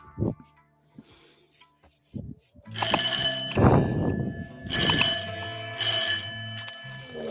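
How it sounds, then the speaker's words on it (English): An old-style telephone bell in the game Rimworld rings loudly in three long metallic bursts, with brief speech and noises before and between the rings. "It's like a old school phone. It's so loud."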